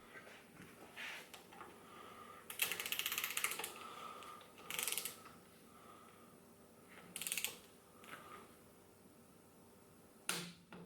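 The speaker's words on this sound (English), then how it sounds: "Next we move on to the upper triple clamp, where we tighten the last 2 bolts." A ratchet clicks in short bursts while tightening the last bolts on the upper triple clamp of a Moto Guzzi Griso motorcycle, with several separate loud runs of pawl clicks and quiet pauses in between.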